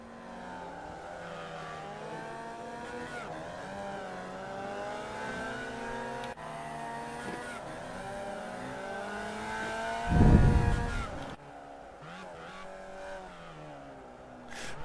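Formula Vee race cars lapping the Oschersleben circuit, a steady close engine drone whose pitch climbs and falls through the revs, with a brief loud rumbling burst partway through and no talking.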